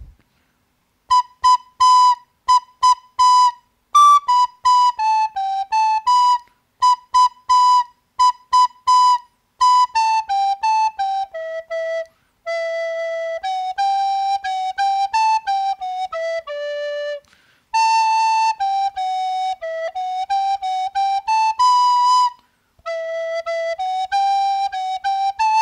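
A single wind instrument, recorder or saxophone, plays a Squid Game soundtrack tune alone, a clear bright melody of short repeated phrases with brief gaps, some held notes, close and steady.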